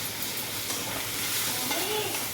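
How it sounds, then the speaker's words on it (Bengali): Spice masala with ground spices and chopped tomato fries in a pan while being stirred, making a dense, even sizzling hiss close by with slight stirring movement and no clear speech. "তো দেখুন আমার কিন্তু মশলাটা একদম কষানো হয়ে গেছে।"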